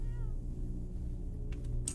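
Cats meow near a house gate in the video game Bark, a short wavering meow early on followed by a couple of brief higher cries later over a low ambient game hum.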